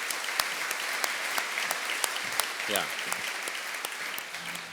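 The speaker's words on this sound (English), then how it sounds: "Please, a very warm applause." Warm applause welcoming a CEO of Wolters Kluwer as a panelist at a John Adams Institute talk, steady hall clapping with a brief voice murmuring under it.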